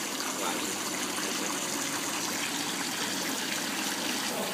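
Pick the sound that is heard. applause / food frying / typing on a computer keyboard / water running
water running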